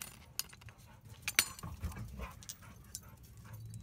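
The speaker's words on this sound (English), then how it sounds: "Dogs, you're being annoying." Dogs whimpering and panting nearby in a garage during soda blasting and a K-Tuned shifter install, soft whines and breathy pants scattered over low rumbling background with a few glassy clinks.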